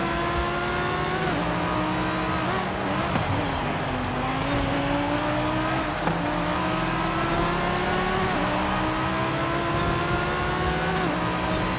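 A Ferrari engine roars in the Forza Horizon 5 racing game, a steady loud drone whose pitch climbs and drops repeatedly through gear changes, with brief tire noise mixed in.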